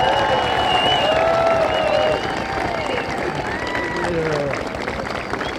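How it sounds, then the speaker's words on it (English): A crowd at an Honor Flight homecoming gives veterans a rousing round of applause, with clapping and cheering mixed with whistles and voices, loud and sustained across the whole stretch. "I know you can thank every veteran with a rousing applause"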